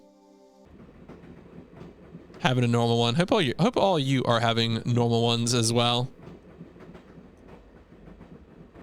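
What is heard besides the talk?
train riding on rails, video game Broken Sword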